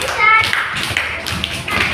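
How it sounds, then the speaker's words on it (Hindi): Children in a class 2 classroom in Bihar clap their hands in a quick scattered burst, close by, with young voices talking over and between the claps. "बजाओ ताली।"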